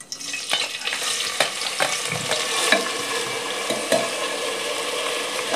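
Rice fries in ghee in a pan, with a steady close sizzle under a run of irregular stirring scrapes and light taps.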